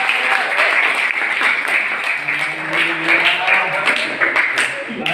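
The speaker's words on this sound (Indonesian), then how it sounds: "Tepuk tangan dulu yang sudah dapat." Classroom applause from a group of students, a steady, fairly loud clatter of clapping lasting the whole moment, with voices talking and calling out over it.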